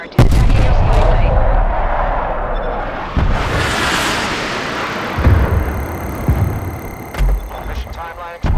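Heavy gunfire from a sentry turret in Call of Duty: Black Ops Cold War, with loud booming bursts and rattling shots over a dense battle roar and some electronic tones.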